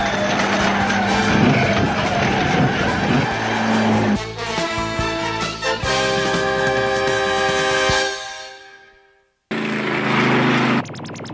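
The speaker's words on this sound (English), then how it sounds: "Michael, she's skidding out of control." A solar car skids out of control after being hit on a road, with long loud tire squeal and engine roar that cut off and then pick up again briefly.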